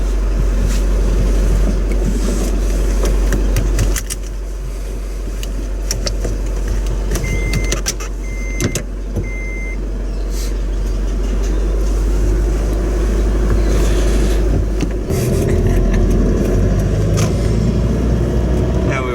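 A car reverses and then drives off with a steady low engine rumble and road noise throughout. A brief beeping tone is heard midway, and the engine swells slightly toward the end.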